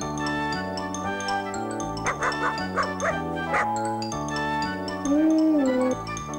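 A small dog barks a few times in quick bursts over steady background music, then lets out a drawn-out whine.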